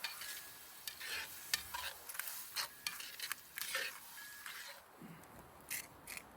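Stew simmering in a Dutch oven over a campfire in Denali National Park being stirred, with scraping and clinking of a spoon against the pot, intermittent strokes over a faint bubbling background.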